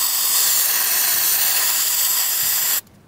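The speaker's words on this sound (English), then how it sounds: "get the brake cleaner after you clean the combustion chamber and fill it up" Brake cleaner sprays in a loud, continuous hiss into an engine's combustion chamber, holding steady for nearly three seconds before cutting off abruptly.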